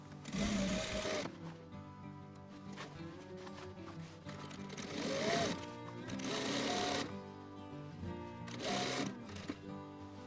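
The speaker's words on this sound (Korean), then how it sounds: "그리고 다림질한 옆선하고 치마 밑단을 쭉 돌아가면서 박음질 하겠습니다." A sewing machine runs in steady bursts as it stitches the side seam and hem of a skirt for a hanbok-style dress, its rapid close mechanical whir starting and stopping alone.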